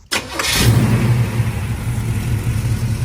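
A restored Henry J gasser's engine catches and settles into a steady, loud, close rumble after a brief start-up burst, running on without talk.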